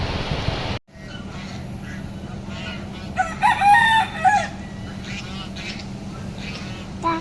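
Chickens cluck and a rooster crows in the open air, with some ducks mixed in and a short loud burst partway through, over steady outdoor background noise.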